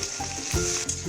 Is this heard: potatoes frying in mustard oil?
yes